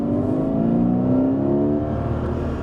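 A Porsche Cayman in Sport Plus mode with its exhaust flaps open revs up: a loud, close, steady engine drone that climbs smoothly in pitch, then eases slightly.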